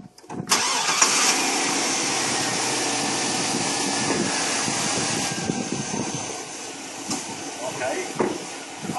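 A car's air conditioning compressor clutch engages with the engine running, a steady close engine hum with a brief mechanical click near the start and a voice talking over it.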